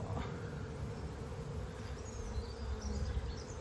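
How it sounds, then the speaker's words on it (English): A dense, steady buzz of many honeybees close by inside a hive, humming continuously with a low droning hum and no voices. "There's a lot of bees in here."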